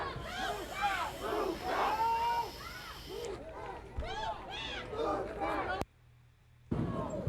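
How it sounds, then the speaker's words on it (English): A firework bangs inside a rowdy street protest crowd at night in Seattle, a sharp crack cutting through constant shouting and chanting before the noise briefly drops away. "That was a firework that went off in the crowd."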